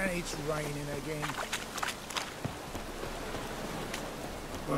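Steady rain hisses down in The Witcher 3: Wild Hunt, a soft continuous patter with scattered footsteps. A voice speaks briefly over the start.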